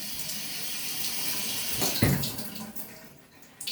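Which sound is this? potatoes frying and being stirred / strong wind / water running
water running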